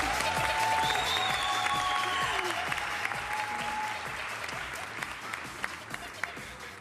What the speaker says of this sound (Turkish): Çok büyük alkışlar lütfen